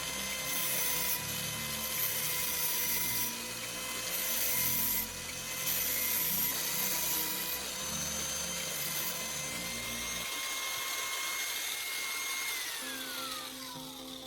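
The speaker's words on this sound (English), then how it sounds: "I'm using the angle grinder again to smooth out the rough edges of the top metal piece." An angle grinder works over the rough edges of a metal piece cut from an old spray paint can, giving a continuous loud high-pitched whine and grinding rasp that shifts in tone as the pressure changes.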